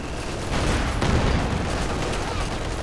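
Artillery barrage and machine-gun fire in Company of Heroes 2, a dense continuous roar of blasts and rapid gunfire with a heavier boom near the middle, with a faint voice underneath.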